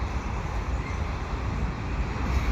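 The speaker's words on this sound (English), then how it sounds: "And of course we got this nice little CP train." A westbound CP mixed freight train with new hopper cars rolls past as a steady, broad low rumble that holds evenly throughout, with no voices.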